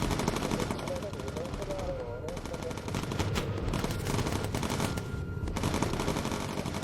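Dense, continuous machine gun fire rattles through a World War II bomber combat scene in the video game Bomber Crew, with bursts layered over a constant engine drone while someone talks.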